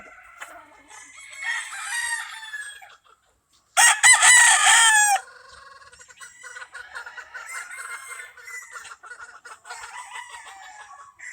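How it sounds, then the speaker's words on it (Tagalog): Chickens cluck and chatter nearby, then a rooster lets out a loud, close crow before the clucking and fowl calls carry on. "kaingayan lang dito guys kasi malapit kami sa mga manok"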